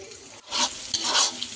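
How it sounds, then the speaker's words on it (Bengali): An egg fries in a pan for a home meal, giving a steady close sizzle with a brief dip near the start and a scrape or stir toward the end. "ডিমটাকে ভালোভাবে একটু ভাজা নিব"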